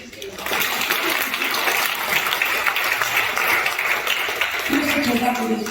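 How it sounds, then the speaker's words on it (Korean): Dense clapping from a congregation or audience swells up quickly and holds steady, with a few voices speaking underneath near the end. "지금 영광의 박수를 좀 쳐드리세요."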